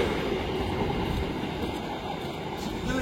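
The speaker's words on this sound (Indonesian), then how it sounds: "Ini mungkin merupakan kereta dengan rangkaian terpanjang yang lewat sini" A very long passenger train from Surabaya Pasar Turi to Pasar Senen rumbles past on the rails, a dense continuous roar that stays loud and steady without a break.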